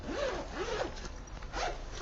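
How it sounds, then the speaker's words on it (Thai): Two-slider zipper on a round bag being unzipped in three quick rasping pulls, close and fairly quiet, with no talk. "เรามีหัวซิปมาสองหัวตรงนี้ เราล็อกตรงกลางเอาไว้ให้เพื่อให้ถนอมซิปนะอ่ะเปิดเลย"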